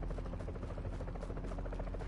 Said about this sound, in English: No, no more helicopters.